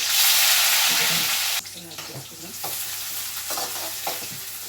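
Mustard seeds, cumin, chillies and onions hit hot oil for tomato rice, giving a loud hiss of frying that drops suddenly to a gentler sizzle, with stirring scrapes and small pops close by.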